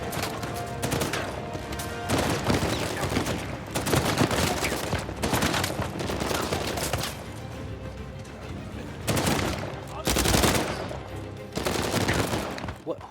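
Rapid bursts of automatic gunfire and scattered shots in the Uncharted 4 action game, loud and sustained across the whole stretch with dense clustered volleys, peaking in sharp bursts, with no talking.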